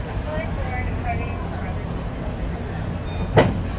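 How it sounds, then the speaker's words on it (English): The Disneyland Railroad steam train rolls along with a steady low rumble, a sharp hiss bursting near the end, while a voice talks over it. "These steam trains have been running up on each other all day today."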